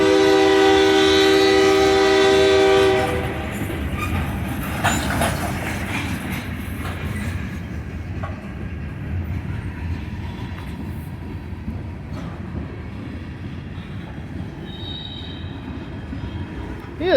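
A Union Pacific freight train led by an AC44CW locomotive passes through a small Illinois town, opening with a loud sustained horn blast for about three seconds, then a steady rumble of wagons rolling by up close.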